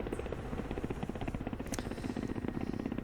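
Ka-50 attack helicopter in flight in the DCS combat simulator: a steady, loud rotor thump and engine drone, continuous and even throughout with no speech.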